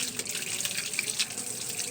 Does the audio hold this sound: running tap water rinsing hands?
yes